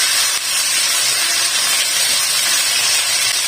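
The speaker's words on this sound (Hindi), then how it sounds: "इसको भी इसके साथ फ्राई कर लूंगी।" Tomatoes frying together with chicken in a pan give off a loud, continuous hissing sizzle, close and steady, with no talk over it.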